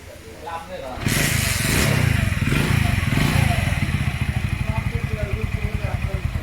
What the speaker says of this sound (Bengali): আমাদের বাইকের সম্পূর্ণ ইঞ্জিনের কাজ করা হয়ে গেছে। আমরা স্টার্ট দিয়ে দেখব। স্টার্ট দাও।